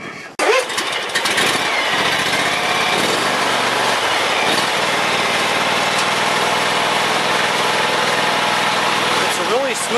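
A John Deere X320 lawn tractor engine starts and then idles steadily and loudly for several seconds, a smooth, continuous close-up hum with a voice talking over it.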